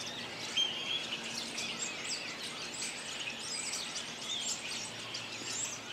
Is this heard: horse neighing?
no